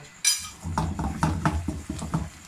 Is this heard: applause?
no